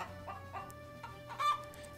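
A hen from the Minecraft Animania mod, sitting on her nest, clucks in a soft series of short calls ending in a slightly louder cluck. The sound is faint and stands alone with no talking.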